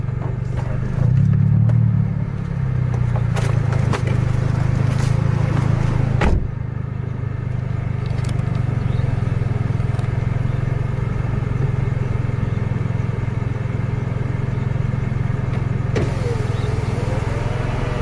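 Scania truck engine revving hard at high revs, a loud sustained roar close up that drops abruptly around the middle, then a steadier engine drone continues without speech.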